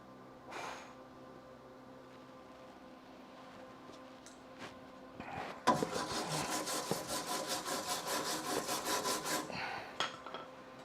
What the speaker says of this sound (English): I'm just building up material and we'll grind it down.